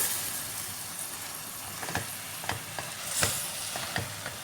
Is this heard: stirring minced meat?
yes